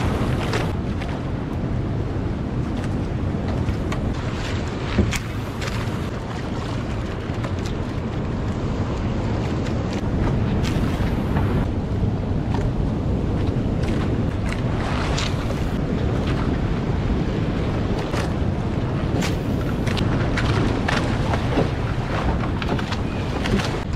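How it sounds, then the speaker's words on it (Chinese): Rough, choppy triangular ocean waves slap and surge around a fishing boat off Lombok, Indonesia, in a steady loud wash of water and wind buffeting the microphone throughout. "这边的浪好夸张哦"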